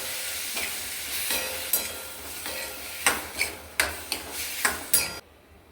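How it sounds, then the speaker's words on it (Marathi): Tomatoes for a tomato and green chilli chutney cook in a pan with a steady sizzle, punctuated by a regular series of sharp metallic spoon-on-pan stirring knocks near the end, then sudden quiet. "आपण टमाटे शिजवून घेणार आहोत"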